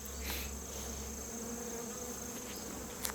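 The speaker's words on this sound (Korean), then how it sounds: "아유, 말벌이 또 여기." A yellow-legged hornet buzzes around a beehive in an apiary, a steady, faint droning hum that holds on without pause against a soft outdoor background.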